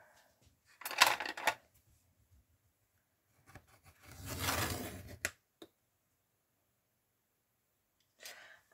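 Scissors snip through material at close range. A few quiet, separate bursts of cutting and rustling are spread across stretches of near silence.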